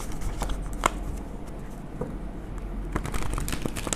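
Tarot cards shuffled by hand, close, with a soft continuous riffling and a few sharp flicks and taps over a faint room background.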